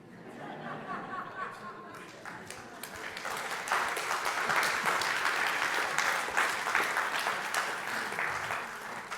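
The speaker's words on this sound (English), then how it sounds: "give a round of applause and a thank you to Judge Pappas for being here with us today" An audience applauds Immigration Judge George Pappas after a talk, with scattered chatter and chuckles at first, then clapping swells into a full, sustained round that holds steady to the end.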